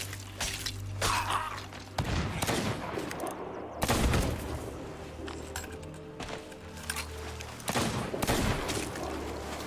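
In the video game Sea of Thieves, a fight with a skeleton boss brings bursts of close gunfire, with sharp cracks and shattering hits arriving in irregular clusters and a steady low hum underneath.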